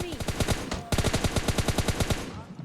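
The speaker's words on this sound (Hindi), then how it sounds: "और मैं इस बंदे को स्प्रे देता हूँ, लेकिन वो डाउन नहीं होता" Rapid automatic gunfire sprays an enemy in PUBG Mobile Lite. The close, loud burst of about twenty evenly spaced shots breaks off briefly before the fire resumes and then stops.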